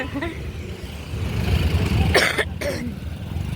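A couple of close coughs break through a steady background of road traffic and low rumble, with faint voices nearby.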